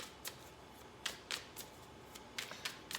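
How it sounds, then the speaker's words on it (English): Tarot cards are handled and laid down during a reading, heard as quiet, crisp slaps and shuffling flicks scattered in short bursts, close and alone. "let's go ahead and throw a little bit more cards down"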